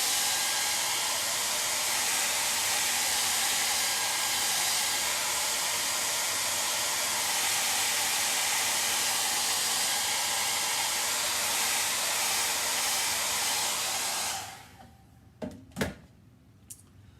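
A hair dryer blows with a loud, constant whoosh for a long stretch, drying wet paint on a pillow, then switches off, followed by a few soft clicks.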